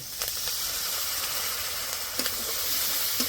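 Spice paste with turmeric and a splash of water sizzles in a pan for a Bengali fennel katla fish dish, giving a steady, close, bright hiss with a few soft stirring scrapes.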